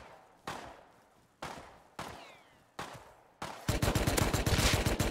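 Rapid gunfire in the survival game Rust, opening with four separate loud shots at roughly even gaps, then a sustained burst of automatic fire close by, with no talking.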